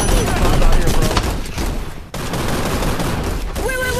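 Rapid gunfire from the video game Gun Raiders, a dense, loud burst of shots that dips briefly midway and then resumes, with no talking over it.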